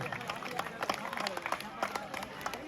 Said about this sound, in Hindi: तालियों से स्वागत किया जाए इनका